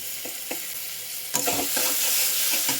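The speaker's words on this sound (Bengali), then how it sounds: "এবার আমি একটুখানি এখানে নাড়াচাড়া করে দিতাম এই তেলের মধ্যে" Vegetables with sugar being stirred in hot oil, a few light spatula taps and then a louder scrape as the stirring picks up over a continuous close sizzle, with no talking.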